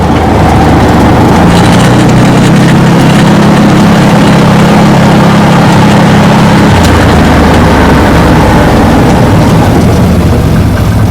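A Massimo Militia 1000 UTV engine that smokes and burns oil runs steadily, giving a loud, continuous close-up drone with a low hum that drops slightly partway through, with no talk.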